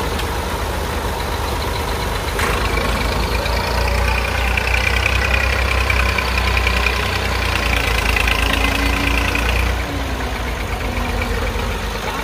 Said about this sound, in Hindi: दूसरा ट्रैक्टर आया है खड़न वास्ते।